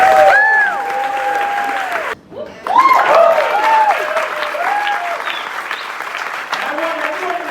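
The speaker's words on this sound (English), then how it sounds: "I just want to give everybody a round of applause because that's incredible" A room full of attendees at a real estate gathering applauds loudly and steadily, with a brief dip partway through, while voices speak and cheer over the clapping.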